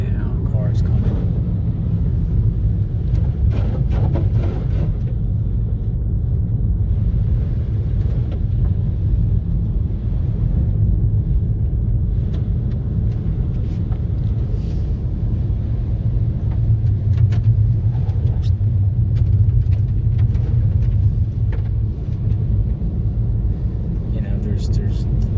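Cars pass on a rural road through open fields near Moscow, Idaho, heard as a continuous low rumble from inside a vehicle, with faint clicks and no clear voices.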